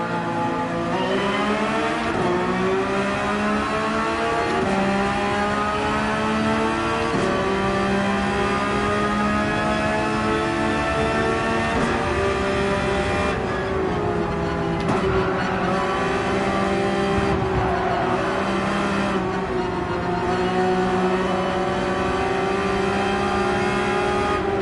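A Porsche 911 GT3 RS race car engine in Gran Turismo 7 at Laguna Seca, loud and continuous, revving through gear changes with steady harmonic whine and brief lifts under braking, with no voices.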